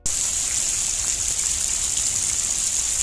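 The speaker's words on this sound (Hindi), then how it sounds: "बारिश बिल्कुल भी बंद होती हुई नहीं दिख रही" Heavy rain pours steadily in a village near Batumi, Georgia, a dense, constant hiss of water that stays loud and unbroken throughout with no voices.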